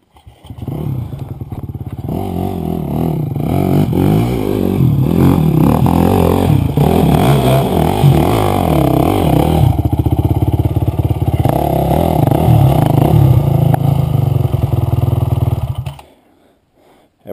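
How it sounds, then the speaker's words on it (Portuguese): A dirt-trail motorcycle engine revs hard and loud, its roar climbing and wavering with throttle blips and clattering, sustained for about fifteen seconds before cutting off abruptly. "Só que você dá giro no motor."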